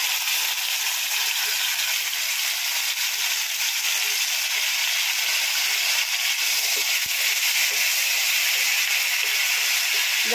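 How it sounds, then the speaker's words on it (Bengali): Onion and tomato paste spatters in hot oil in a pan, a loud, steady hiss and crackle of frying that holds unbroken throughout. "যখন দেখছি এরকম ছিটছে তখন একটু কিন্তু হলুদ গুঁড়ো দিয়ে দেবো, কারণ পেঁয়াজে থাকে জল, তো সেই জন্য এটা ছিটবেই"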